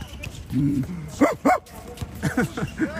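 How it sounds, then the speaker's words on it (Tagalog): A dog barks several times in short bursts at an outdoor basketball game, moderately close, while someone talks over and between the barks. "Ay, aso tumatahol."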